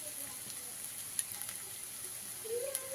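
Ginger and garlic fry in a pan with a soft, steady sizzle throughout, a faint stir scraping near the end, quiet and close with no talk.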